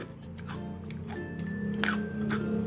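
Someone bites into crunchy fried tofu sticks, giving several close, crisp crunches spaced irregularly, with soft chewing between them.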